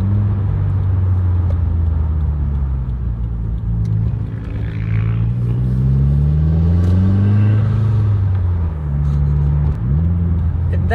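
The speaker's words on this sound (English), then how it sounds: "Downshift rev match, let's go." Invidia catback exhaust on a car during a heel-toe downshift rev match around 3,000 rpm: a close, loud, throaty rumble that swoops up in pitch, settles, then rises again near the end.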